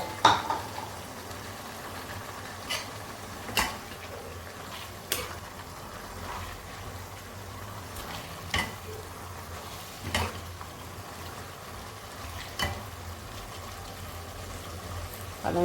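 Chopped spinach frying with chicken and a little water in a pan, giving a steady low sizzle and bubbling with occasional sharp clicks and taps of a utensil, fairly quiet throughout with no talking.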